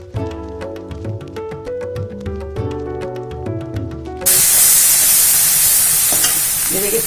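Masala spices with turmeric roasting in a pan, a loud steady sizzle and hiss that bursts in partway through after a stretch of background music, continuing strongly to the end.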